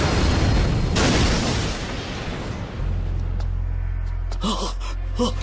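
Anime fireball attack: a roaring, rumbling explosion blast fills the first few seconds, then settles into a steady low drone, with a dubbed voice shouting over the tail end.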